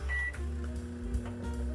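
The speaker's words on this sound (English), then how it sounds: "start the microwave first" A microwave oven is switched on and runs with a steady low hum and faint mechanical whir, holding a constant level throughout without any talk.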